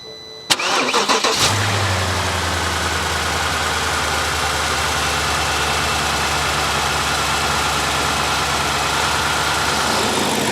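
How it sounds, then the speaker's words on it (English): A BMW car engine cranks briefly, catches and settles into a steady, loud idle that continues to the end. "All that's left to do now is fire up the engine"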